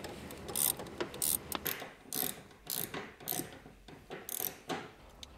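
A hand ratchet tightens seat bolts into the seat bracket of a 2011 Mustang, giving close, crisp bursts of rapid clicking repeated about a dozen times in an uneven rhythm, with no voices.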